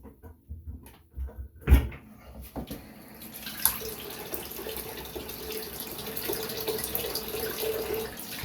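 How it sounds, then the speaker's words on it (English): Tap water runs steadily into a bathroom sink while someone rinses off after a wet shave, a single loud splash or knock coming first and the faucet flow then continuing evenly up close with no talking. "I'm gonna go ahead and rinse off."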